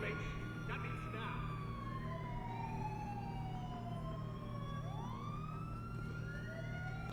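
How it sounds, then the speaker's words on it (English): Several rising and falling police siren wails in a video game overlap at a distance, sweeping up and down over a steady low rumble, with a voice briefly underneath. "The cop light, cop siren, and the alarm."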